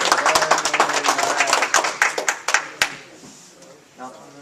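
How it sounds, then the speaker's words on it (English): Audience applause at a live podcast recording at the ChattaCon 2014 convention: dense, fairly loud clapping for about three seconds that thins into scattered claps as voices take over. "We got claps."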